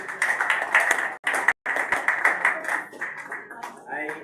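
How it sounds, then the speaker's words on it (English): A workshop group claps hands together for one participant, rapid uneven clapping with a brief break partway through, fairly close, with voices mixed in. "Hand clap for Nicholas"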